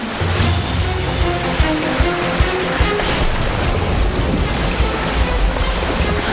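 Heavy water surging and crashing on a game show obstacle course, about 1000 gallons pushing against a contestant, loud broadband rush that fills the whole stretch, continuous and close with thuds within.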